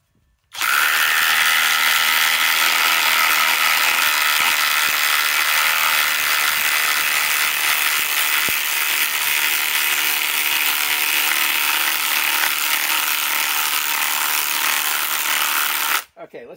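Harbor Freight Hercules HCB81B cordless impact driver, rated 2200 inch-pounds, runs in one loud, steady whine for about fifteen seconds, starting and stopping abruptly, close by with no talk over it.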